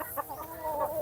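Rhode Island Red breeder hens and roosters on a farm flock, clucking in short, close, repeated calls over a low background murmur.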